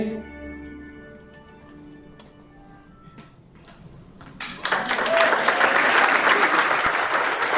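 Wedding reception guests break into loud applause for Anna and Frankie after a quieter stretch of speech, the clapping building sharply midway and staying dense and steady to the end.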